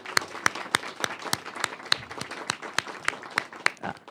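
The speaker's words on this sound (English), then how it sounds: "So if we could go ahead and give them a round of applause" An audience at an arts panel forum claps sparsely, with distinct individual hand claps in an uneven rhythm, fairly quiet and close.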